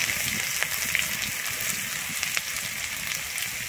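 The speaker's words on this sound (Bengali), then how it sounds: "আমি পেঁয়াজ আর কাঁচা লঙ্কাটা একটু ভেজে নেব।" Chopped onion and green chilli frying in oil produce a continuous dense hiss, even and close throughout, with faint scattered pops.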